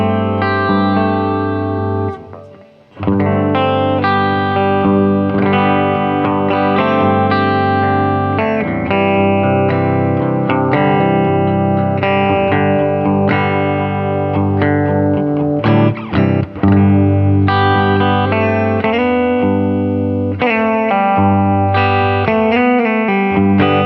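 An electric guitar played through a JHS 424 pedal into a Welsh-built Marshall Plexi amp, distorted chords and riffs ringing loud and sustained, with one brief gap near the start.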